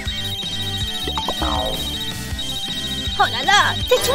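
Phone ringtone in a classroom, a steady electronic tone sounding through playful voices and exclamations, with whooping cries near the end.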